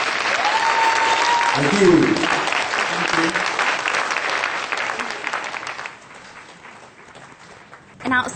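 An audience gives loud, sustained applause after a singing duo's performance. The clapping gradually thins and fades, and a voice speaks briefly near the end.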